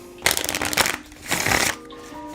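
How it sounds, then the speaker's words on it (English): Two quick riffle shuffles of a deck of playing cards, each a crisp, fluttering burst of flicking cards, close up and separated by a brief pause. "do a riffle shuffle from that break"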